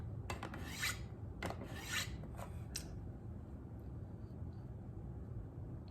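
A Victorinox Fibrox 8-inch fillet knife is stroked across a sharpening stone, giving a few short, close rasping scrapes in uneven bursts over a steady low background hum.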